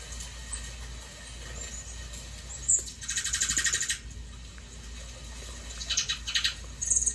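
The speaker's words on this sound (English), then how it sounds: "The birds are back" Small birds chirp in short, bright bursts over a steady low hum indoors, with a few clustered twitters spaced across the recording.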